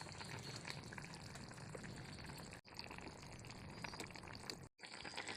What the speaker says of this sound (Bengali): মাছের ঝোলটাকে আমি খুব ভালো করে ফুটিয়ে নিয়েছি।